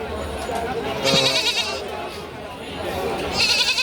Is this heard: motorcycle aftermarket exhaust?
no